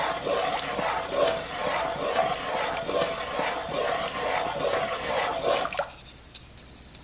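A half pint of liquid is poured into a Ninja cooking system crock pot for chicken alfredo, a close, steady splashing gurgle for several seconds that stops abruptly into near quiet.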